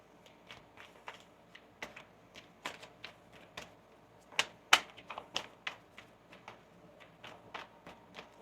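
Someone shuffles a deck of tarot cards close by, producing an irregular run of crisp clicks and snaps of varying loudness. No one speaks.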